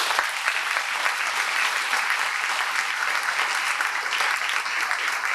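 Audience applause at a 1997 school dedication ceremony, a steady dense clapping from a crowd that holds evenly through the whole stretch without a break.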